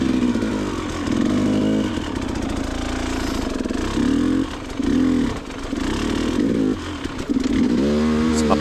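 Dirt bike engine on a wet, slippery lane, revving in repeated bursts that rise and fall, loud and close, with a steady running drone between throttle blips and no talking.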